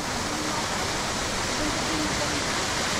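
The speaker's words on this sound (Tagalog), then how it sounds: "Ang bawat lagaslas ng tubig na to ay nanggagaling mismo dito sa Bulusan Volcano." Nagsipit Falls in Casiguran, Sorsogon, fed by water from Bulusan Volcano, gives a constant dense roar of falling water, loud and close, with no break.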